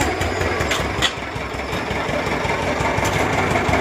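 Steady engine drone from motorcycles going along a road where the surface has sunk into a six-foot pit, near and continuous with an idling, rumbling quality and no clear separate pass-bys.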